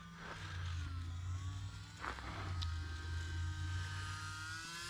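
An E-flite UMX Carbon Cub SS RC model plane drones steadily overhead with a continuous buzzing motor whine. The sound is fairly even, distant to mid-range, and quiet, with a slight swell partway through.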